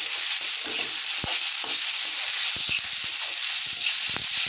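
Poha with squeezed lemon is stir-fried in a pan, giving a steady, close sizzle and hiss with scattered soft knocks and scrapes from stirring. No one speaks.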